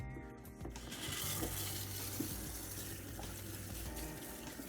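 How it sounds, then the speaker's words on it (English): Lukewarm tap water runs steadily over a hair system being washed, a soft continuous splashing and trickling stream with faint low hum beneath, fairly quiet and close. "So now we use lukewarm water."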